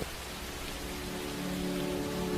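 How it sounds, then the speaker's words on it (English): Steady rain falling, a soft broadband hiss with gentle tapping drops, continuous and even throughout, no voices. "As you listen to the sound of rain, imagine it tapping gently on your window."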